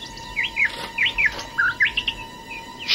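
A cartoon bird chirps in short high tweets, repeated in small clusters across a few seconds, close and clear with no talking.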